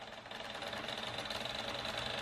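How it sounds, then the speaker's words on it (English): Gaming PC fans whir with a fast, steady ticking rattle where a loose wire strikes the spinning blades, faint and close, with no talking. "Silly Adam had a wire hitting the fans"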